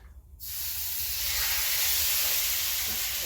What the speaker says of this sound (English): we're going to allow this to sear just for about a minute